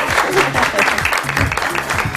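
Studio audience clapping on a morning talk show as guests are welcomed, a steady patter of many hands with a voice talking over it throughout.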